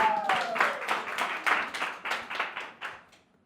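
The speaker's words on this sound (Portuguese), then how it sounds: "Queria que todo mundo recebesse com uma calorosa salva de palmas o nosso querido Miguel!" Audience applause welcoming Miguel Oliveira to a Vox2You presentation: a burst of hand clapping, moderately loud and fairly close, with individual claps audible, fading out over a few seconds.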